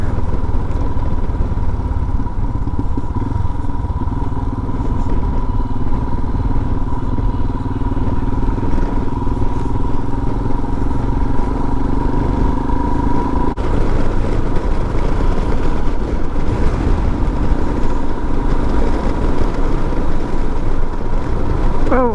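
A Royal Enfield Himalayan motorcycle riding off-road, its engine droning steadily and loudly close by, with rumbling and clatter from the rough ground throughout.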